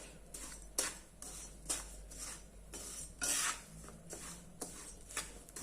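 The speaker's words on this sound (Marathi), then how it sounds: "असं हलवून घ्यायचे आपल्याला मस्त असं मीठ लागलं पाहिजे त्याला छान असं भाजून घ्यायचं" Salted peanuts tossed and stirred in a dry pan on medium heat, giving a steady run of scraping, rattling clatter with sharper metallic scrapes about once a second, close and alone.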